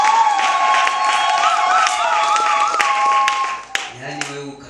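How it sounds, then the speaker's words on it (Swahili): A church congregation claps for Jesus at a service, loud sustained applause and cheering from a crowd that fades out abruptly near the end. "Pigie Yesu makofi."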